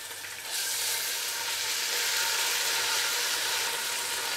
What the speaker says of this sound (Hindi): अदरक और लहसुन के पेस्ट को हमने सोते कर लिया है